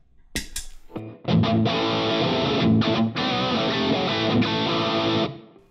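A few muted string scrapes, then a heavily distorted electric guitar through an amp preset plays sustained, crunchy chords, ringing loud and saturated before cutting off.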